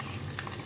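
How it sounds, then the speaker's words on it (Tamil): Soft, steady bubbling and sizzling of water boiling in a pot of pepper kuzhambu on the stove, a continuous low simmer with no voices. "தண்ணி கொதிக்கிறது."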